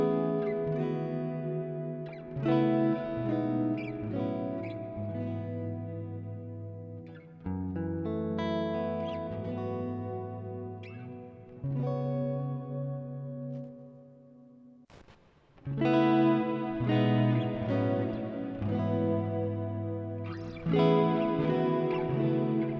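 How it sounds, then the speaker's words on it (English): Guitar chords and picked notes run through a Boss RV-6 reverb pedal in stereo mode, each phrase blooming into a wide, lingering tail, played steadily and up close with no voices. "Here's a stereo reverb for comparison"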